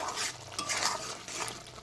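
Spices are stirred and mixed in a frying pan, a short burst of soft scraping and shuffling over a low sizzle, close and quiet.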